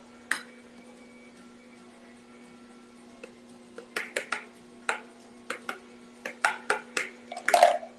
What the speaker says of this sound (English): I'm using a Ninja juicer. It's a cold press